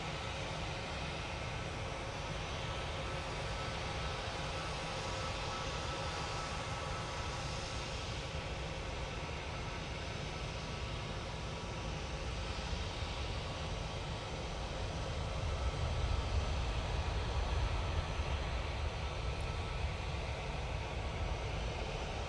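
A Eurowings airliner takes off at Manchester Airport, a faint, distant engine roar that holds steady and swells a little toward the end, with no talking.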